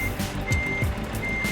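A Scania V8 truck in Euro Truck Simulator 2 backs up, its reversing alarm sounding repeated evenly spaced beeps over a steady engine rumble.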